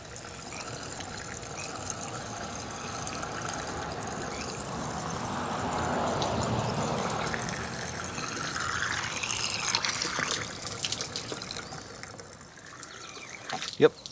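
Water pours steadily into a vintage truck camper's fresh water tank, its rushing tone gradually shifting as the tank fills, ending with a sharp knock.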